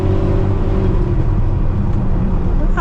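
A Ferrari cruising in fifth gear with a loud aftermarket exhaust, its engine giving a steady low droning rumble with road noise, heard from inside the car.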